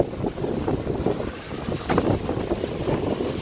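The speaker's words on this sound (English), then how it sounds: "Pretty windy today." Strong gusty wind buffets the microphone, a loud rushing roar that swells and dips, with no talking.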